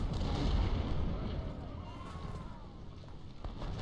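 Distant artillery booms and scattered musket fire rumble through a Civil War battle at Chancellorsville in Ultimate General: Civil War, a low, muffled barrage with occasional sharper reports under faint ambience.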